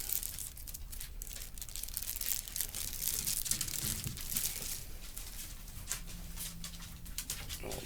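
Plastic wrapping around a fixed-blade knife crinkles and tears as it is unwrapped by hand, a close, busy rustle of irregular crackles that runs throughout with no voices.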